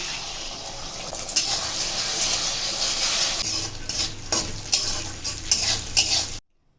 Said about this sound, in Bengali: দুটো ডিম ভেঙে একটু কড়াইতে তেলে নেড়ে চেড়ে দিচ্ছি